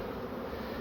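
Steady, continuous buzzing from a crowded beehive full of bees, a dense close hum that holds level throughout with no voices.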